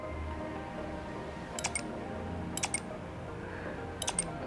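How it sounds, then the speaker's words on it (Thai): Three quick electronic Nothing Phone (1) camera shutter clicks, each a short crisp burst, spaced about a second apart against a quiet background. "เสียงชัตเตอร์ของกล้องนี้นะครับ มันมันล้ำดีนะฮะผมกดถ่ายให้ดูฮะ"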